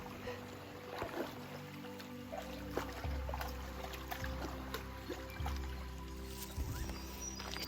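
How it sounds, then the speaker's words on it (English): Water trickles softly in a quiet forest stream, a faint continuous babble with small splashes and low thumps, close by and without voices. "you hear the water trickling"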